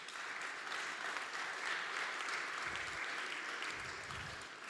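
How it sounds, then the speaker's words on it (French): An audience at a European ethics committee conference applauds Jean-François Delfraissy with steady, even clapping that sounds distant and soft, thinning slightly toward the end. "je pense qu'on peut l'applaudir"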